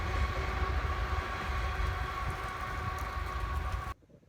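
CSX freight train B651 rolls past with a steady, close rumble and a droning engine hum that runs evenly, then the sound cuts off abruptly near the end, with no talking.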